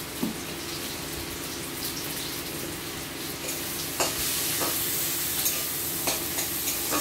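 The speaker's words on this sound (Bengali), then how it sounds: "পেঁয়াজ রসুন ভেজে, পেঁয়াজ আদা রসুন দিয়ে সমস্ত মশলা দিয়ে এবারে কাঁকড়ার ঝালটা রান্না করবো" Onion, ginger, garlic and spices fry in a pan for a spicy crab curry, a steady close sizzle broken by occasional scraping stirs.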